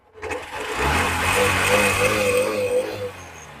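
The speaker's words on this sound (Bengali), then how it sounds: "গাড়ি এখন ইঞ্জিন স্টার্টে রয়েছে," A used 2020-model motorcycle with about 22,300 km on it, sold by its first owner, fires up and settles into a steady, close mid-pitched idle that lasts about three seconds before fading.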